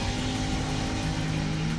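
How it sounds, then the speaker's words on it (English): Cars drag race down a neighborhood street at midnight, a loud, steady engine roar with a sustained droning pitch that rises slightly, fairly close and continuous, no voices. "Drag racing down a neighborhood street."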